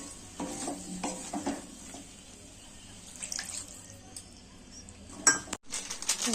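Paneer curry is stirred in a pan, with a gentle sizzle, clinks and scrapes of a utensil against metal in irregular bursts, some quieter gaps, and a sharp clatter near the end; no speech.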